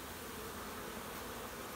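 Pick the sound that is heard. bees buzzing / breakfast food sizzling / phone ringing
bees buzzing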